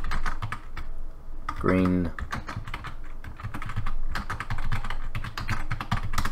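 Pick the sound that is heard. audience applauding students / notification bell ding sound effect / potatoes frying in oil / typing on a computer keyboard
typing on a computer keyboard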